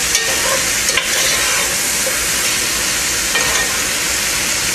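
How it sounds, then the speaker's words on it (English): Seasoned squirrel meat browns in hot grease in a pot while being stirred, a loud, dense sizzle with a couple of scraping stir knocks near the start. "See, my seasoned meat is in the grease. You want to stir it, make sure that it gets browned on all sides."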